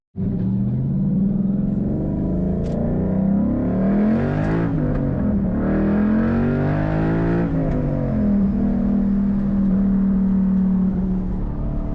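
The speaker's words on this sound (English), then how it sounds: "get some OEM sounds with the side pipe resonators removed" Deep, throaty V8 exhaust of a 2012 Ford Mustang Boss 302 through stock side pipes with resonators removed, revving up and settling again, loud and close, rising and falling over several seconds before holding a steady drone.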